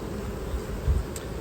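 Italian honeybees hum at an open hive frame, a steady low drone of many wings close by, continuous and even.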